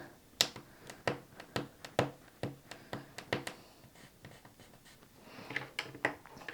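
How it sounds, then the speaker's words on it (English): Soft, close dabbing and rolling taps of a kneaded eraser pressed across a pencil flower drawing on paper, a dozen or so distinct light strokes in an uneven rhythm, alone without talk. "I am going to lighten them with my kneaded eraser. I'm just going to roll it"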